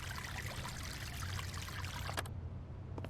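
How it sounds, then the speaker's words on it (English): Water pours steadily from a tap in the zombie survival game Vein, a soft continuous stream near a sink with a couple of faint clicks near the end and no talking. "Guess the water's still running."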